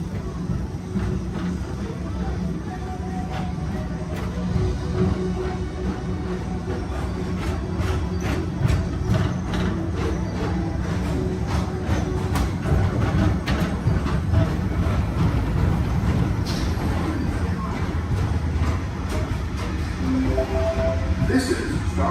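The Space Mountain roller coaster at a Disney park rumbles along its track, a continuous low mechanical roar with rattling clicks and clacks, loud and close, while a voice speaks over it.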